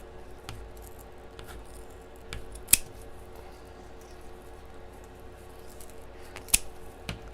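Scissors cut through wreath material for a winter snow owl wreath, giving a few sharp, isolated snips spaced a second or more apart over a quiet, faintly humming room, with no talking.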